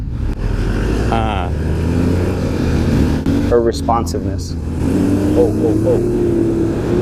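A CF Moto Ibex 450 adventure motorcycle rumbles along under test, its engine steady and near, while a rider talks over it and a truck passes in the background.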